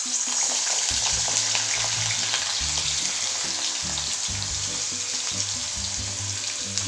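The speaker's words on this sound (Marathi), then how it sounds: "आता हे काप आपण तेलामध्ये तळून घेऊ." Thin peeled and washed potato slices frying in hot oil, a dense continuous close sizzle with occasional stirring and low clinks throughout.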